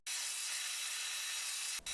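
A power sander grinding surface epoxy off a wooden strip-built boat hull, a loud close steady whine and hiss that runs continuously before cutting off briefly near the end.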